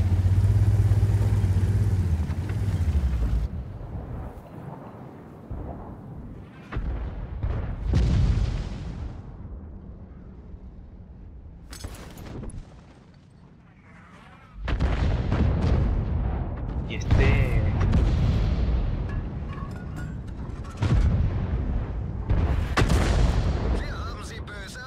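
Tank cannon shots in World of Tanks, heavy booming blasts over a rumbling engine and battle ambience, with loud bursts at the start and later in the clip.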